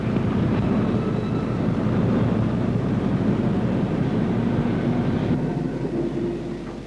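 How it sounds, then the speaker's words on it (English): A coal train rolls slowly beneath the loading bunker at a colliery in 1969, a dense, continuous low rumble with steady grinding and clanking, loud and near, easing slightly toward the end. "As the train is moving along underneath"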